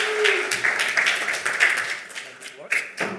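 Applause from an event audience at a green startup pitch slam, a dense patter of clapping running through most of the clip with a few sharper claps near the end, moderately loud with faint voices mixed in.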